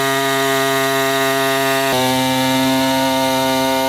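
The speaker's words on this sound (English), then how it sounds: "I just love cutting into Brad's nice new painted bumper" A power tool saws into a freshly painted car bumper, a loud steady whine with strong harmonics that shifts pitch midway as the blade bites, continuous and close with no talk.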